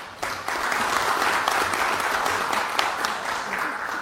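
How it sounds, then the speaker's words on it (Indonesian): An audience in an Indonesian parliamentary hearing room breaks into steady, dense applause. It starts abruptly and holds at an even level for several seconds, close and fairly loud. "kita kasih aplaus"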